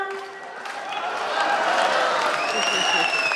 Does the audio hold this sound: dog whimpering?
no